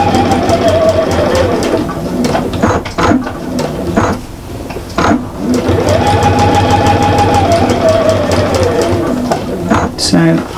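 A home sewing machine stitches the fabric of a double-sided Christmas cushion with a loud, close mechanical whir in several bursts, stopping and restarting for backstitches, while someone talks over it.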